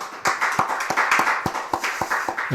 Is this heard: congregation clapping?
yes